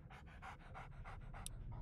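Dogmeat, a dog in Fallout: Tale of Two Wastelands, pants steadily in quick, even breaths, close and soft, with a faint click near the end over a low background hum.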